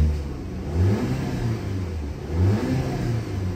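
A 2010 Audi A4 with a 2.0-liter turbo engine being revved: close, steady engine rumble with two throttle blips swelling and falling over a low idle, no talk.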